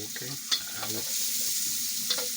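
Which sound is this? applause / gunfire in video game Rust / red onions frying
red onions frying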